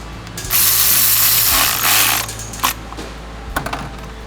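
A hand ratchet snugs down bolts on the oil cooler of a 2014 VW Tiguan, one fast run of loud clicking, then a pause and a few short, separate clicks close up, with no voices.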